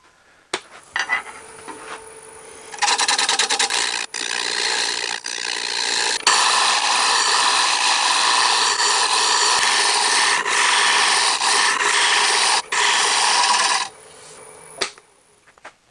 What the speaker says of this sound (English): Here's my dedicated negative rake shear scraper.